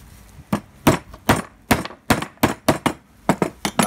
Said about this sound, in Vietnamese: Đóng các bạn quen thì với dùng trực tiếp búa như này nhá.